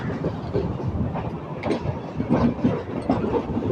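A Telangana Express passenger train with LHB coaches runs along the track, giving a steady close rumble with rhythmic wheel clatter at an even, fairly loud level throughout.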